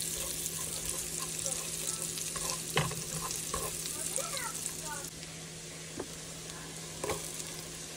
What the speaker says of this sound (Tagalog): magigisa-gisa po tayo ng bawang tsaka sibuyas